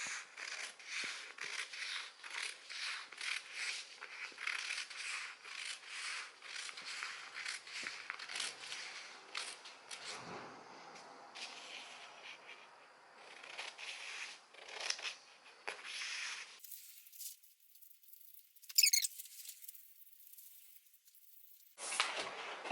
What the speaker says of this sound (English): now I'm going to take my scissors and cut out